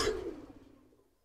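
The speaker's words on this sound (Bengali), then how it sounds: "তো এইটা হইলো নর কবুতরটা" A male pigeon gives a single soft, close coo that fades over about a second.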